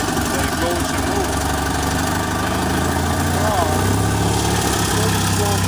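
A Hustler 980 riding mower's engine idles loud and close, a constant low rumbling drone with a slight knocking pulse, while someone talks over it.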